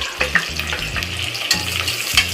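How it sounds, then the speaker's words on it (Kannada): Mustard seeds, cumin, chopped onion, two Byadgi chillies and curry leaves frying in hot oil for bisibele bath, a steady close sizzle broken by several quick spatula knocks against the pan. "ಚೆನ್ನಾಗಿ ಫ್ರೈ ಮಾಡ್ಕೊಳ್ಳಿ"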